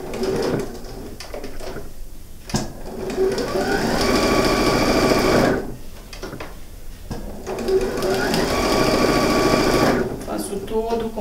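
Sewing machine stitching around the outline of a decorated patchwork coin purse made from fabric scraps, a steady close mechanical whirr running in long bursts with brief pauses, someone talking over it.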